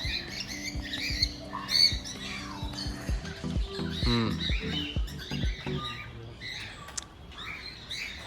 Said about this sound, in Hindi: ये भी एक तोते की ब्रीड है।